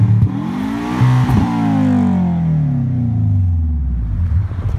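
Up close, a freshly rebuilt Subaru Legacy engine with twin turbos, one reportedly not working, blips once or twice, then sweeps into one long loud rev that slowly falls away, with no speech over it.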